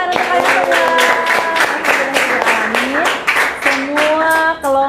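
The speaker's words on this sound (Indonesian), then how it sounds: "satu kali lagi kita tepuk tangan untuk kalian semua" A classroom of students clapping together for their classmates after group presentations, loud, quick rhythmic hand claps close by, with children's voices chattering and calling out over them.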